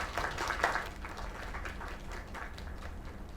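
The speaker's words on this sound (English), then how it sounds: "Another round of applause." A burst of clapping and applause in a video game that is strongest at the start, then thins into a softer, steady patter.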